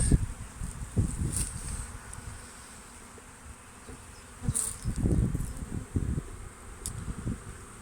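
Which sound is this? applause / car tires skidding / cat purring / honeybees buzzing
honeybees buzzing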